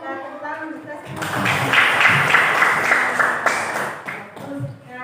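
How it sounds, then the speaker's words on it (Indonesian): Schoolchildren clapping their hands together in a classroom lesson, a burst of busy, overlapping claps that swells loudly for a few seconds and then fades, with voices around it. "Tepuk tangan kita semua."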